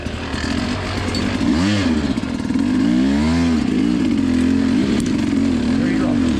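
A motorcycle engine throttled gently, close and loud, with rising and falling revs over a continuous rough idle while a rider talks over it.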